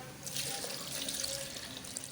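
Water streams steadily into a jug for a melon drink, a close, continuous splashing fill with no talking.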